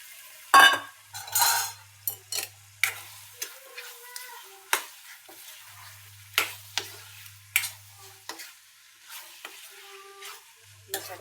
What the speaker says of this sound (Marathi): मसाल्यामध्ये मटण चांगलं परतून घ्यायचं आहे.